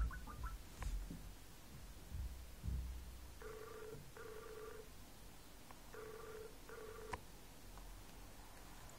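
A Skype call rings out in repeated two-tone bursts, paired in a steady pattern against a faint background hiss, preceded by some soft knocks and handling noise.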